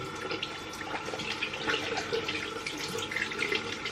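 Water from a shower runs steadily while a face is rinsed, a close, continuous splashing stream with small irregular drips and no talk.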